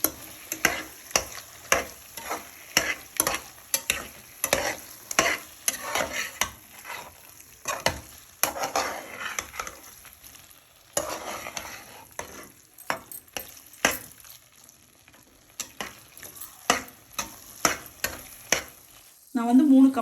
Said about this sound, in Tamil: இறா போட்டு ரொம்ப நேரம் வதக்கணும்னு அவசியம் இல்லைங்க.